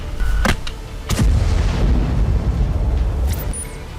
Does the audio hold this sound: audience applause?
no